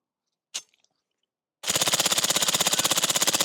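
B&T APC-9K SD suppressed submachine gun firing: one sharp single click or shot, a pause, then a fast, steady full-auto burst of muffled, evenly spaced reports lasting about two seconds, close and fairly loud.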